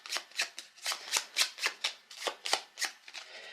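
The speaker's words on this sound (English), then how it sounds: "The remaining seals will be shuffled together to form one more stack" Seal cards for the Blades of Legend board game being riffle-shuffled on a tabletop, a quick run of about a dozen crisp, close riffling bursts with no talking.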